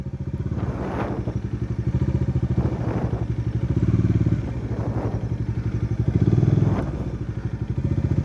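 A motorcycle engine idles and revs in a close, rhythmic putter during figure-eight riding practice at a driving course, with the throttle swelling and easing in repeated waves as the bike turns.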